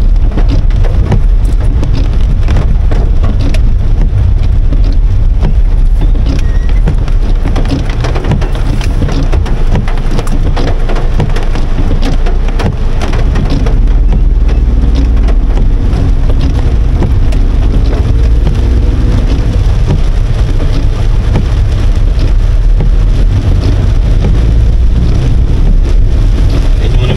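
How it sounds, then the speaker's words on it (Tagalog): Heavy typhoon rain pours down without a break, a loud, dense hiss of drops hitting surfaces with a low rumbling undertone throughout, and no voices over it. "O yan, bigay sa atin yung ulan."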